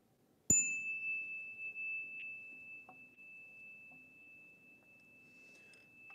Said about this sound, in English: ring the bell as we enter.